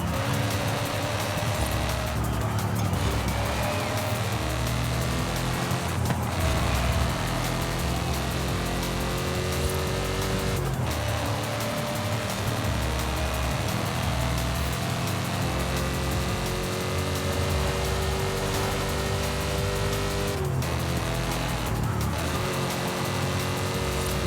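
A car engine from the street-racing game Night-Runners drones steadily with rising and falling revs and periodic gear-shift dips, loud and continuous throughout.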